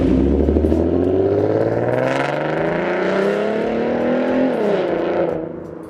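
A Ford Mustang 3.7L Cyclone V6 with BBK shorty headers accelerates, its loud growling exhaust climbing steadily in pitch, briefly easing, then climbing again before the sound drops away at the end.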